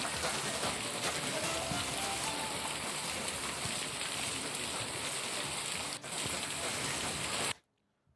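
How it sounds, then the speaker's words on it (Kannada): Heavy monsoon rain pours down in Chikkamagaluru in Karnataka's Malnad region, a dense, loud, continuous hiss that stops abruptly near the end. "ಈಗ ಸಿಕ್ಕಾಪಟ್ಟೆ ಮಳೆ ಆಗ್ತಾ ಇದೆ"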